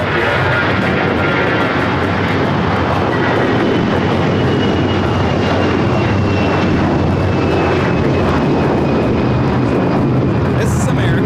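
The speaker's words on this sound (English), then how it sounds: "This is American Airlines 753 taking off to Atlanta on the A321" An American Airlines A321 airliner takes off from LAX, a loud, continuous engine roar that stays strong throughout, with people talking faintly beneath it.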